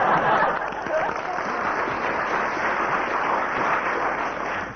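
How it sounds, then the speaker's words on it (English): A studio audience on a radio comedy panel show bursts into steady, continuous applause that fills the room at full strength, holding its level for several seconds before beginning to taper off, with no voices on top. "First applause from the audience"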